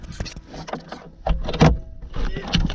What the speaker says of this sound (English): The whole top will fold down.